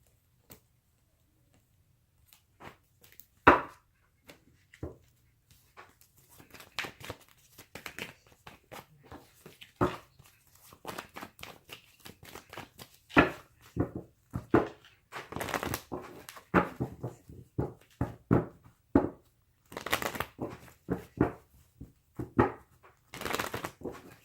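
Papery riffling and soft slaps of cards being shuffled, in irregular bursts that grow busier, close and fairly quiet.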